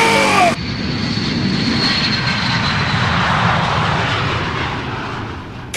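A fixed-wing airplane in an animated series roars loudly and steadily throughout as its engine drones on, sustained and close, after a brief cut from another sound at the start, with no speech.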